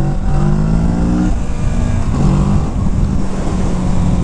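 A 2021 Kawasaki Z650 motorcycle engine revs hard for a wheelie attempt, a loud close-up roar with rising and falling pitch as the throttle opens and eases, wind rushing underneath, no voices.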